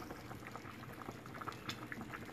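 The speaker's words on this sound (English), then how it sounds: "Boiling too high." Oxtail stew in a tomato base boiling hard in a pot over too-high heat, a steady close bubbling and popping with no talk.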